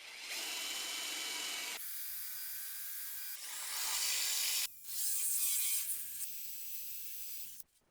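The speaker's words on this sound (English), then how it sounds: "I realised I had to drill out the bottom of the bolt as well" A power drill whines in several bursts, drilling out a rusty bolt on a BMW E30, starting and stopping with short pauses and a couple of sharp clicks near the end.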